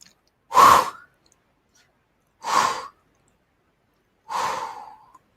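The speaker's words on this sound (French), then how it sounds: "Vous respirez une grande fois, vous soufflez." Three slow, deep breaths are blown out audibly, each a separate soft whoosh of air with pauses between, as a group relaxes during a guided breathing exercise at a talk.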